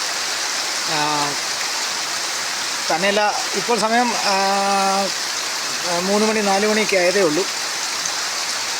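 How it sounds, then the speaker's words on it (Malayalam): Steady rain falls as a continuous soft hiss throughout, running under a voice as he talks in intermittent phrases. "ഈ മഴയുടെ സൗണ്ടും"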